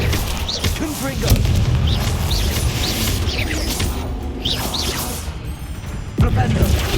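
A Confringo blasting spell going off in Hogwarts Legacy, heavy booming impacts and crashes with whooshes, loud and repeated across the scene, with a voice speaking over them.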